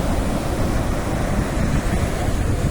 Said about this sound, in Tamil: கடலில் கொஞ்சம் தண்ணி அதிகமாக இருக்குது. அலை அதிகமாக இருக்குது.